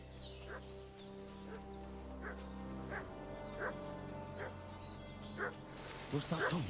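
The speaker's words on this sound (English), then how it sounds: "What's that dog making such a fuss about?" Dog barking and fussing in the video game Kingdom Come: Deliverance 2, a run of short repeated barks and yelps at moderate distance over a steady low background tone, with a louder burst near the end.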